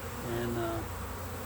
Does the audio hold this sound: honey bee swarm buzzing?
yes